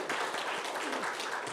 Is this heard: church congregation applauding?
yes